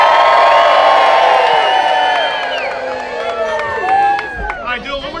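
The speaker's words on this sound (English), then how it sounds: "Look, there's a real big cheer." A crowd of schoolchildren at a school building dedication lets out a big cheer of whoops and yells that fades into scattered shouts, loud and close, with voices mixed in.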